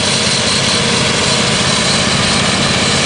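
Homemade automated robotic lawn mower with its engine running: a loud, continuous chugging drone that fills the whole stretch on its own.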